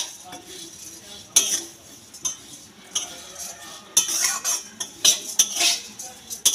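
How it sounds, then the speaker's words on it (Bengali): A utensil stirs dheki-pounded flattened rice (chire) in a hot pan, with irregular metallic clinks and scrapes against the pan in scattered bursts, some louder than others. "খুব ভালো করে নাড়তে হবে।"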